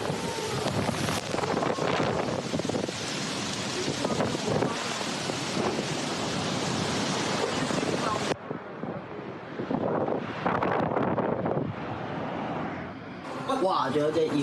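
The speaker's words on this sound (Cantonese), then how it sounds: "好大風。" Strong gusting wind from Typhoon Mangkhut in Hong Kong roars loudly against the microphone at home, buffeting nearly nonstop with a brief lull partway through and voices heard intermittently underneath.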